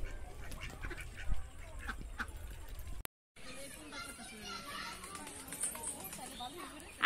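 A flock of ducks eating and quacking in quick scattered bursts nearby, a brief dropout midway, with voices talking over them.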